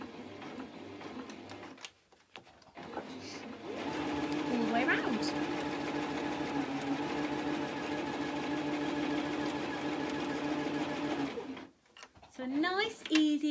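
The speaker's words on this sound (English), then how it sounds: "all I'm doing is following the fabric on the edge of my sewing machine foot." A sewing machine stitches fabric for a mug caddy in steady, continuous runs lasting about eight seconds, with brief pauses before and after and a voice talking over parts of it.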